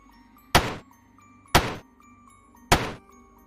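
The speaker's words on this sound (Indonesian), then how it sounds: "Ada yang mengetuk dari luar." Three evenly spaced heavy knocks on a door, close and solid, each followed by a short pause over a quiet background hum.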